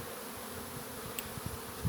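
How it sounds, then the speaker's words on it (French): An Asian hornet hums in a faint, continuous drone, close but quiet, over a low steady background. "c'est le fameux frelon asiatique"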